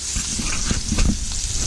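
A sausage sizzles and crackles steadily in a hot pan, close and continuous, with occasional soft stirring or scraping and no talking.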